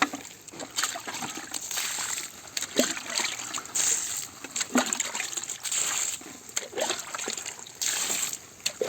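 Fermented rice water is poured over bean plants in a garden, giving a close, continuous splashing trickle with intermittent stronger gushes, mostly without talk.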